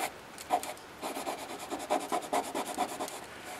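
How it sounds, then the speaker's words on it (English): Scraping softened bottom paint from a boat hull after a paint stripper has been applied, a series of short, rough rasping strokes, fairly quiet and close, with no talk. "the way I'm going to check it is just take some scrapes off."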